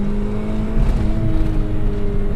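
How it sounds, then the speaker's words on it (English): Engine of a 1998 Peugeot 106 Rallye S2 hatchback heard from inside while driving, a steady close drone with faint whine and road rumble throughout, no talking. "Okay, let's get back to driving this car."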